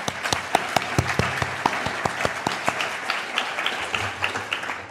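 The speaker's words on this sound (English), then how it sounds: "So let's have a round of applause for them." A conference audience at an international applied psychology congress applauds the organizers, individual sharp claps standing out in a steady, near-rhythmic patter over a softer background of clapping.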